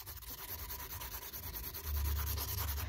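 A fingernail being filed with the 180 grit side of a nail file under very light pressure, a quick series of soft, close scratchy strokes that turn a little louder near the end.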